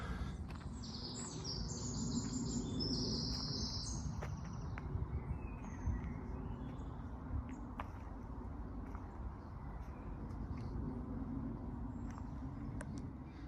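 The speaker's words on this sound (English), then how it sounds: "everywhere I go I seem to hear a different bird" Several birds chirp and sing in bursts over a soft, steady outdoor hum, fairly distant and quiet, in Spring Wood bluebell woodland at Whalley, near Clitheroe, Lancashire.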